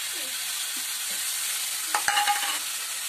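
Ginger, garlic and green chilli paste fries in a pan, a steady mid-level sizzle with a couple of soft stirring scrapes and a short metallic clatter of a utensil toward the end.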